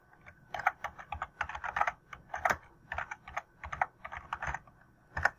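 Someone types a search into a computer keyboard, a close, steady patter of key presses running for several seconds with no talk.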